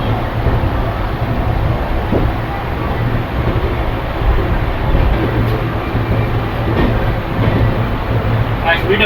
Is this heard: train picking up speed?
yes